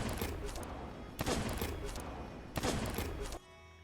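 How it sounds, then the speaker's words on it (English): Sniper hit sounds in the Sea of Thieves video game: three loud, sharp pops with booming tails, roughly evenly spaced, before the sound cuts to a quieter background. "whenever you snipe someone and it makes like that pop noise"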